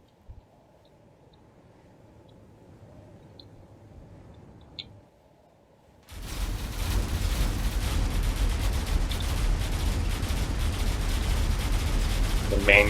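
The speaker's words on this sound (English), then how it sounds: "The main cannon is trying to fire up at the other ship. Lots of missiles starting to come in." Space battle in Drone Wars as a ship's main cannon fires and missiles stream in: after a quiet hum, a sudden loud, sustained roar of weapon fire and impacts erupts and keeps going, dense and close.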